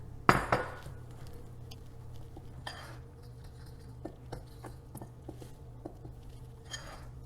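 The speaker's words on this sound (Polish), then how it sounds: "I to jajko mieszamy z mąką, polecali widelcem, żeby były takie małe kawałeczki ala kruszonka" A fork mixes egg into flour in a bowl for a peach crumble topping, with one sharp clink against the bowl, then light scattered scraping and tapping, fairly close and quiet.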